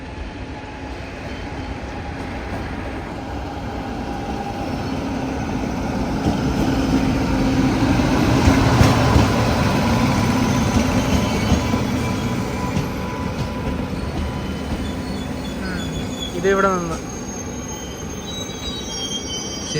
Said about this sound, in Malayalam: മുംബൈ ലോകമാന്യത്തിൽ നിന്ന് എറണാകുളത്തേക്ക് പോകുന്ന ദുരന്തോ എക്സ്പ്രസ് അതങ്ങനെ വരുന്നുണ്ട്